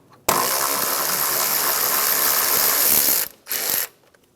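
A ratchet wrench with a 10 millimeter socket rapidly backing out the AC line bolt on a 2007-2013 Acura MDX, a continuous clicking run for about three seconds, then a short burst after a brief pause.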